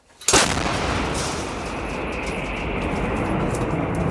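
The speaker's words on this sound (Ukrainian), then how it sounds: "Остріл!" A single heavy blast from a Ukrainian artillery gun on the front line goes off sharply near the start, followed by a long rumbling echo that rolls on and slowly fades.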